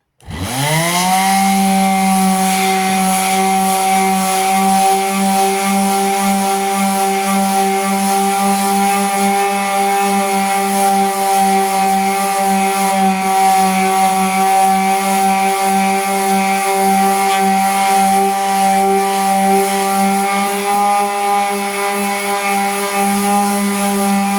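A power sander scuffs Hampton Bay Sinclair ceiling fan blades, starting up abruptly and then holding a loud, steady, whining drone close by for the whole stretch.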